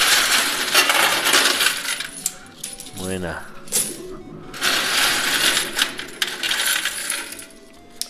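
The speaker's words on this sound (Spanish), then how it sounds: "A ver, acá se me dan monedas." Coins clatter and cascade almost continuously inside a coin pusher arcade machine, a dense metallic jingling that briefly pauses mid-clip while someone says a word, then resumes loud and close.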